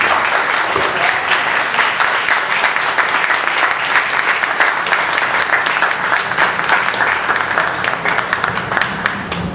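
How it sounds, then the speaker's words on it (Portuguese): Sustained audience applause at a book launch event, dense steady clapping from a crowd filling the space at a constant loud level for the full length, with no voices standing out. "E a salva de palmas nesse momento é para os senhores."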